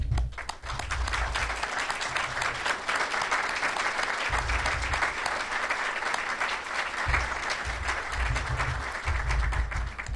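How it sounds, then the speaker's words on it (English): Sustained applause from an audience honoring committee members at a university athletic director announcement, a dense steady clapping crowd lasting throughout at moderate distance. "please stand so that we can give you a well-deserved round of applause."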